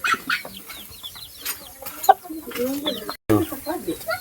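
A fighting rooster (panabong) in a farmyard gives short clucks and squawks at close range, mixed with other chicken calls and voices talking nearby.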